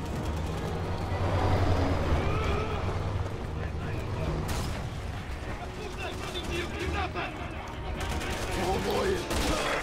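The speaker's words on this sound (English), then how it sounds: "Our guy's still shooting." Rapid bursts of gunfire from Resident Evil 6 co-op play crackle through a busy mix of game noise, with players talking over the shooting.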